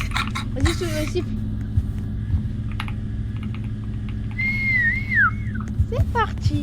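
A person whistles a short rising and falling tune partway through, under steady computer keyboard typing and talking during a Backrooms-style horror game session. The whistle is clear but brief.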